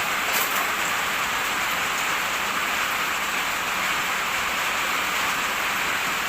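Heavy typhoon rain pours down in a dense, unbroken hiss, loud and close throughout, with no voices or other sounds standing out.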